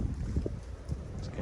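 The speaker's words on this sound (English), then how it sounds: "It's kind of windy." Wind buffets the microphone in a steady low rumble with gusty fluctuations throughout.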